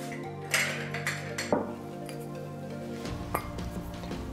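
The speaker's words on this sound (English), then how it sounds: "we're gonna start by adding ice to a mixing glass" Ice cubes drop into a cocktail mixing glass with a few sharp clinks and rattles, close and clear.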